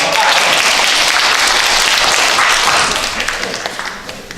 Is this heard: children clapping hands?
yes